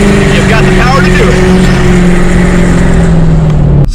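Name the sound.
tuned truck accelerating onto a busy road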